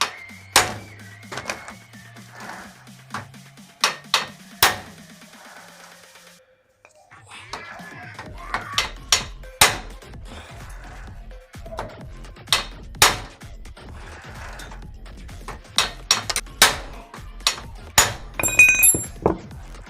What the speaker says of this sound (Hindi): तो नीचे में आपको लाग लगा के हैमर करना है, ठीक है, हथौड़ी मारना है।